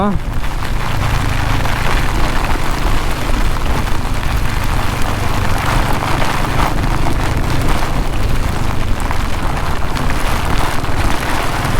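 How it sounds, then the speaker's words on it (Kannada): Heavy monsoon rain pours down steadily during a motorcycle ride to Shivamogga, a dense, loud roar of water hitting surfaces that continues without pause. "ಸಖತ್ ಜೋರ್ ಮಳೆ ಬೀಳ್ತಿದೆ"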